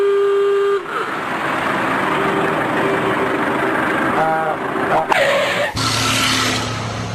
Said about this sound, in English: And so we were off into the Sri Lankan traffic